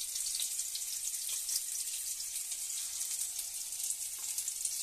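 Egg batter spooned into a frying pan with snake gourd, a soft, continuous hiss of sizzling oil, steady and fairly quiet from start to finish.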